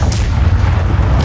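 Ship cannons firing in the Blackwake naval combat game, two heavy booms at the start and end of a short stretch, loud and close, with rumbling low noise between them.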